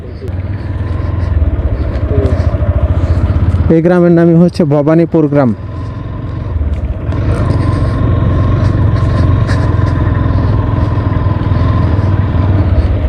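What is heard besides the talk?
motorcycle riding on a village road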